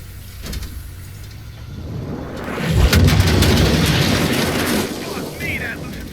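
A deep, rumbling explosion in the video game Call of Duty: Black Ops Cold War swells up midway and lingers as a loud, sustained roar, with faint voices in the background.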